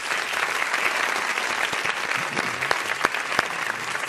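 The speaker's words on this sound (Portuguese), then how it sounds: "Pode aplaudir." A crowd applauds during a talk on new treatments for alcohol and drug dependence, producing steady, dense clapping for several seconds with occasional crisp individual claps close by.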